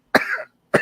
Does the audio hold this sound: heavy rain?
no